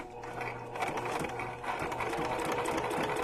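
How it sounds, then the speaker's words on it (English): Sewing machine stitching through cardboard for a junk journal cover, a steady close mechanical whirring hum with rhythmic needle chatter running continuously with brief slowdowns. "I rarely have an issue sewing through this cardboard"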